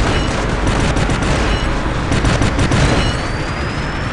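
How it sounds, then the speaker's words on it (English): A bomb explosion effect in the War Robots video game, a dense, loud, continuous roar of blasts and booming fire filling the whole stretch without any voice. "Boom! Bomb effect."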